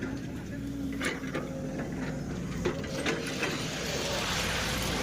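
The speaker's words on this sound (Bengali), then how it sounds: "মেশিনটাকে নামাচ্ছে বন্ধুরা দেখো" A heavy machine being lowered at a stone crusher, heard as a continuous mechanical clatter and ratcheting with steady low rumble. Scattered metallic clicks sound beneath it, and someone speaks over it.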